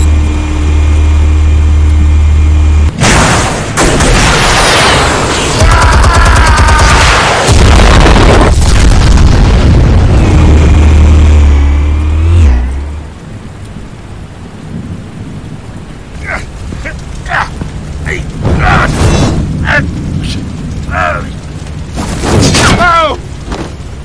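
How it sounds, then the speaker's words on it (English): Explosives detonating in Batman: The Telltale Series, heavy booming blasts and rumbling debris with crackling, rain-like aftermath, followed by scattered sharp impacts and voices talking. "Explosives armed. Fire when ready."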